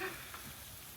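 Lobster searing on a hot flat top griddle, a steady broadband sizzle filling the whole second at an even level, close and alone with no talk.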